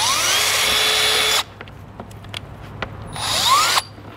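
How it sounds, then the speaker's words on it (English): A power drill whirs loudly for over a second drilling a pilot hole while installing a tonneau cover on a 2022 Ford F-250, stops, a few light clicks and taps follow, then spins up again briefly. "I'm gonna drill a pilot hole first."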